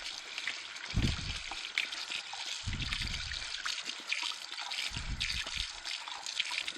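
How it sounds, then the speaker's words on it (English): Wiper blades from a Sana EUJ 808 juicer rinsed under running tap water: a faint, steady trickle with several louder gushing splashes as the parts pass through the stream. "I'll rinse off the wiper blades."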